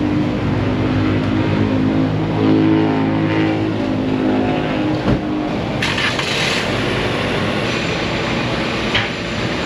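A Toyota RAV4 on a test drive after a brake job, its steady engine and road rumble filling the cabin continuously, with a few brief knocks and rattles from the road.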